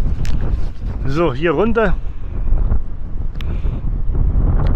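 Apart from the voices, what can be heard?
strong wind at Maspalomas dunes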